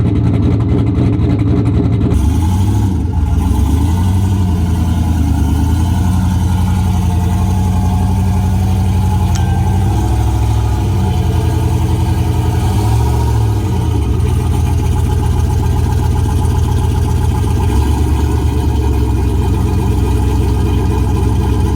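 A turbocharged WS6 Trans Am sits idling, its engine a loud, close, steady low rumble with slight fluctuations after a brief startup burst at the beginning.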